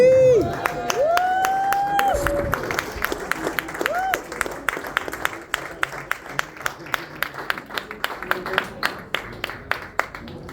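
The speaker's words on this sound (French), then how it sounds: "on peut l'encourager par des applaudissements." Concert audience at a singalong applauding and cheering, loud whoops and voices over dense clapping that thins into scattered individual claps toward the end.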